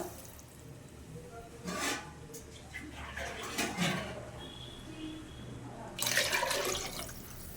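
Water splashes and pours in a few uneven bursts into a pot of rice, faint and close, with a longer pour near the end.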